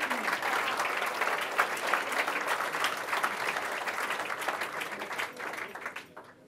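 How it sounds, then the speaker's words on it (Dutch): A crowd at a mayor's New Year's speech applauds steadily for several seconds, the clapping dense and even before tapering off toward the end. "Mag wel een applaus."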